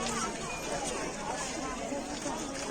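Dense crowd chatter fills a busy tribal bazaar, many overlapping voices forming a steady, close hubbub with no pauses.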